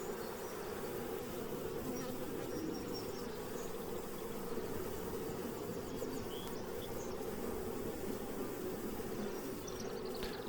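A swarm of honey bees buzzing as a dense, steady, continuous drone, fairly faint but unbroken throughout, with no voices.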